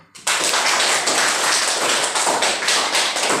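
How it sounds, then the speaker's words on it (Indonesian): Classroom applause for a student group's presentation, a dense, steady burst of many hands clapping that starts abruptly and carries on loud and even to the end, with no voices over it. "kita bisa apresiasikan dengan memberikan tepuk tangan"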